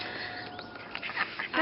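Ducks on a homestead quack in a loose, uneven series that builds louder toward the end, close by, over steady outdoor background noise with faint voice-like sounds.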